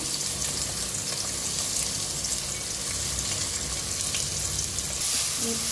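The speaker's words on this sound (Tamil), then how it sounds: "இப்போ வெட்டி வச்ச வெங்காயத்தை நம்ம போட்டுக்கலாம்" Chopped onions drop into hot oil for a South Indian vada curry, letting out a steady, dense sizzle and crackle that holds up close and loud for the whole stretch, with no voices over it.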